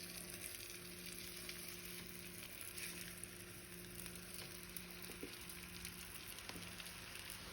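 A tortilla fries in oil in a pan while quesabirria tacos are being made, a faint, steady hiss of sizzling with a few small pops and crackles.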